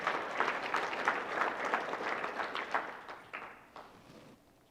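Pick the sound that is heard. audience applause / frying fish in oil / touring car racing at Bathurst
audience applause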